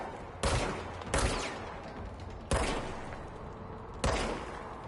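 Gunfire from a gun in the video game Control: four loud, sharp shots at uneven intervals, each with a short fading tail over a steady low background hum.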